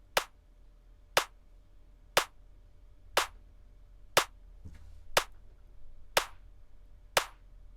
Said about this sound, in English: to really punch that clap tight as anything